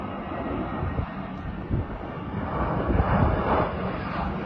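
An Air Canada Airbus A320-200 airliner passes with a low, rumbling jet roar that swells gradually and stays fairly distant, with no talking.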